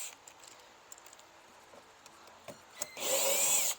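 A drill fitted with an angle bit backs out a rear bumper screw on a Honda FK8, a loud close whir bursting in near the end after faint clicks and handling noises.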